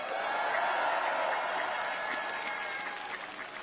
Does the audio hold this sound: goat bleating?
no